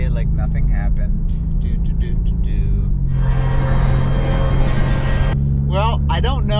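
A Ford Mustang pulls away on a snowy closed course, its engine rumbling steadily and swelling as it accelerates, heard close with a voice talking over it.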